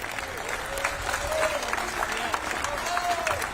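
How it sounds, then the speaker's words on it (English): Audience applause at a National Vietnam War Veterans Day ceremony in Houston, a steady wash of clapping from a crowd sustained for several seconds, with a voice speaking faintly over it. "that deserves a thundering round of applause"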